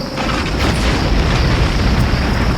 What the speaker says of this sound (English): a collection of explosions from the north